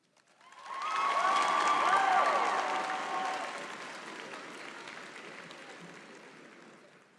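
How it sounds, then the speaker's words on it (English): Audience applause at a high school graduation ceremony, a crowd clapping that swells quickly, peaks, then slowly fades, with faint cheering mixed in. "how about another round of applause for our Salutatorian and Valedictorian of 2022?"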